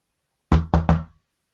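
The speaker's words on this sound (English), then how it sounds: "You knock and there is no answer" Three quick knocks on a hotel corridor door, close and crisp, in a fast even rhythm with silence before and after.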